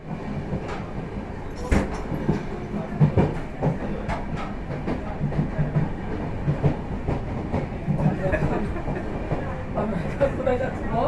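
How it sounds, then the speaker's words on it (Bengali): The Kamrup Express rolls into a station with rumbling wheels and rhythmic clickety-clack over the rails, loud and close, while people talk nearby. "ঠিক 3-4 মিনিট বাদেই কামরূপ এক্সপ্রেস এসে পৌঁছলো"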